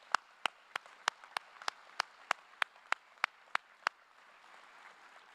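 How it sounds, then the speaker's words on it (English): A single person's steady hand claps, about fourteen sharp, evenly spaced claps at a graduation ceremony for a state police training troop, fading out near the end with no talk over them. "A round of applause for the instructors."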